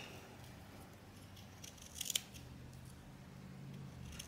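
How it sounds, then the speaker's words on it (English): Scissors snip the loose ends of a handmade tassel with a bead on it, a short cluster of two or three crisp cuts in a quiet room with a low background hum. "I'm going to hold it out and trim it a little bit"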